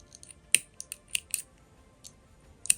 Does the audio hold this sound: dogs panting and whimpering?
no